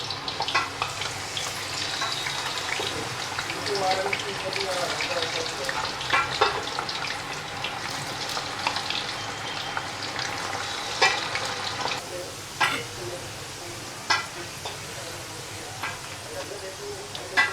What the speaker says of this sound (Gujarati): હવે આપણે આ ચિપ્સ તળી લેશું